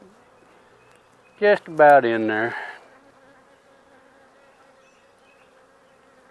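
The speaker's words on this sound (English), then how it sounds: "We got the swarm here." A honeybee swarm hums as a faint, steady drone throughout, with a brief stretch of nearby talk partway through.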